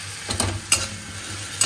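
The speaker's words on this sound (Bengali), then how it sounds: "হলুদ আর ধনে গুঁড়োটা দিয়ে ভালো করে কষিয়ে নিয়ে" Turmeric and coriander powder being sautéed in a pan, with a steady soft sizzle and a few light scrapes and stirring knocks from a spoon against the pan, close by, no voices.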